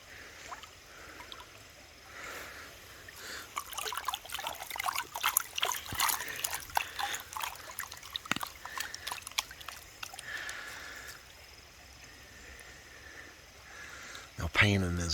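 Water sloshing and trickling as light material washes out of a gold pan in a West Virginia creek, soft splashy swirls repeating in rhythm, close and fairly quiet, with someone talking throughout.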